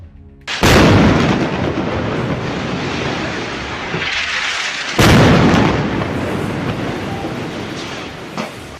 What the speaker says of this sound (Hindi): इस आईईडी में जोरदार ब्लास्ट कर दिया जाता है